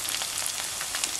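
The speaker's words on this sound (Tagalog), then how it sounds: "Pag mainit na, pipirituhin na natin." Soft, steady sizzle of cooking oil frying lumpiang shanghai spring rolls, a fine crackling hiss with small pops throughout, fairly quiet and close, no voices.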